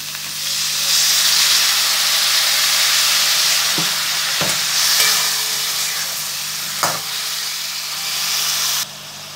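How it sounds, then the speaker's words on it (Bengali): Vegetables are stirred in a hot pan as a little water goes in, producing a loud, continuous, hissing sizzle up close. A few sharp spatula knocks punctuate it before it cuts off abruptly. No speech. "আবার একটু নেড়ে মিশিয়ে দেব। সামান্য একটু জল দিচ্ছি।"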